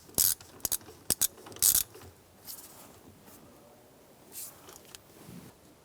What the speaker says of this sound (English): We're using a 15mm socket. You want to just snug that lock nut down into place.